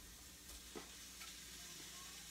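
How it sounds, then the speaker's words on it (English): Sliced bacon sizzles in a pan on the stove: a faint, steady frying hiss with a few soft scrapes and clicks, no voices. "Step 1, I've sliced the bacon up. We are going to fry it. I've got my pan on the stove"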